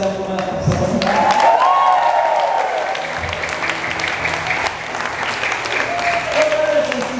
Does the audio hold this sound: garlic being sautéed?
no